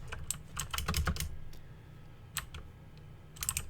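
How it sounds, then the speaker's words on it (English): Computer keyboard typing, clicky keystrokes in quick bursts and short clusters with brief pauses between, close-up and fairly crisp over a quiet background. "over my clicking keyboard"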